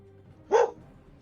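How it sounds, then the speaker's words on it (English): One short, sharp dog bark close by, standing out alone against quiet background noise. "Stop barking."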